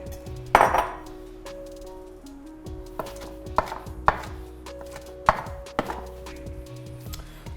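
A kitchen knife roughly chops tomatoes on a board, giving irregular sharp knocks spaced a second or so apart with a few light dish clinks between them, close and clear with no talk.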